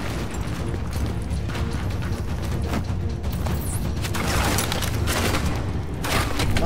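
Dense, continuous mechanical rattling and booming from a video game turret firing, with clanking, ratchet-like mechanism noise and repeated impacts blending into a loud, unbroken wall of sound.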